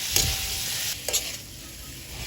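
Shrimp sizzle and crackle in a hot pan with margarine and garlic, with close stirring scrapes breaking through the steady frying hiss.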